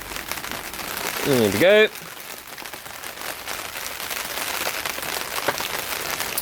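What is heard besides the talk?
rain falling outside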